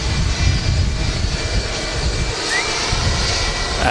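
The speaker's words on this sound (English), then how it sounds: "if you look to your left, there's a Turkish Airlines A330" Engines of a Turkish Airlines Airbus A330-300 at Manchester Airport, a steady, moderately loud roar and rumble holding evenly throughout without any talk.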